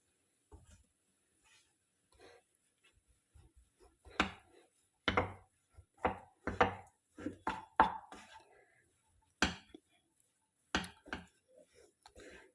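A spoon or spatula working spices through mashed potato filling for vada pav in a pan, making sparse, close, woody knocks and scrapes in uneven bursts over near silence.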